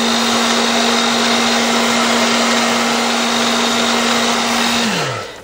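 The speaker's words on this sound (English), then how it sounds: "you're going to get your hairdryer and you're just going to gently put some heat on that nail" Hair dryer blowing steadily to gently heat a nail wrap, a loud continuous motor whine and airy rush that holds constant for about five seconds before the motor winds down and cuts off, with no voices.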